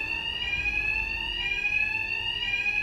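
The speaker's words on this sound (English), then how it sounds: "My attacks will be covered by the noise of the alarm." A fire alarm rings steadily in the Batman: Arkham Knight video game, a continuous high electronic tone holding at moderate level with no talk over it.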